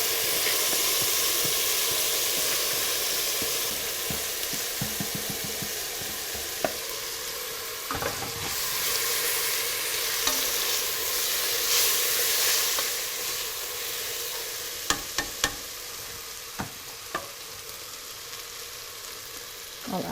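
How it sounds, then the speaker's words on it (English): Barley is added to softened onions in a soup pot and stirred, giving a steady close sizzle and hiss with scattered scraping and clinking stirring knocks throughout. "So now the onions became soft, and they softened, and they changed color. I'll add my barley to it."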